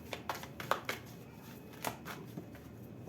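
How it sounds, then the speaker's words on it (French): Oracle cards are shuffled and one is drawn, producing soft, quiet papery flicks and taps at irregular intervals against a low background. "Ok, on prend une carte conseil comme ça."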